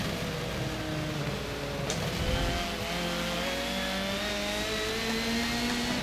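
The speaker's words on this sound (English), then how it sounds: "That Civic sounds weird." A Honda Civic race car in Forza 7, its engine revving and rising in pitch under acceleration with shifting tones, steady and moderately loud without speech.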